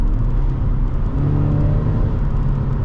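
A 2013 Subaru BRZ engine downshifts on the approach to a left-hand sweeper, heard as a steady, close low drone with a mild rise in pitch. No one speaks.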